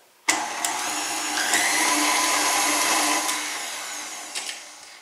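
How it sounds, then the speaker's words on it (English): Electric mixer beating unsalted butter at medium speed for cookie dough, a steady loud whirring motor hum that starts abruptly and runs continuously, with a few faint clicks and no talking. "Then I'm going to mix this at medium speed for just a minute."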